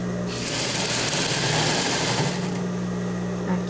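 A sewing machine stitching the bottom hem of a basic women's trouser, a loud continuous mechanical whirring buzz that runs steadily for several seconds and eases slightly near the end.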